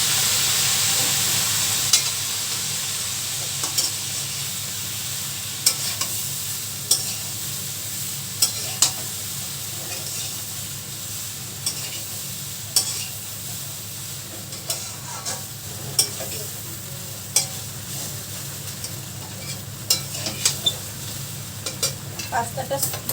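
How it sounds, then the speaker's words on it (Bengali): Pasta being stirred into vegetables frying in a pan, with steady close sizzling throughout and repeated sharp scrapes and clinks of a utensil against the pan at irregular intervals, no talking. "এবার আমি পাস্তাগুলো ভাজাটার মধ্যে মিশিয়ে দিচ্ছি।"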